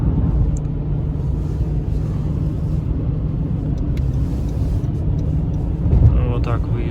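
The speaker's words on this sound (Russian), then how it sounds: "Выезжаем на автостраду. Разгоняемся." A car accelerates onto an empty highway near Sacramento on a Saturday morning, giving a steady loud engine and road rumble from inside the cabin that holds constant throughout, while someone speaks over it.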